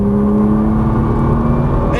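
A Nissan GT-R accelerates on a race track at Exotics Racing in Las Vegas, a steady loud engine drone with a sustained low hum filling the whole stretch, no break in the sound.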